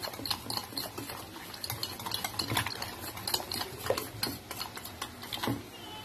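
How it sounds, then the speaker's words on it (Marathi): Thick onion pakoda batter being stirred and mixed by hand or spoon in a bowl, a steady run of wet slapping and scraping clicks with soft utensil taps, close and moderately loud, no talking. "हे मी हा पद्धतीने याला मस्त मिक्स करून घेणार."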